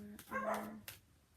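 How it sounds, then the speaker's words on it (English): A dog barks indoors several times in quick succession, close and fairly loud, with a short bark or yip near the end, then the room falls quiet. "Sorry, the dogs are going."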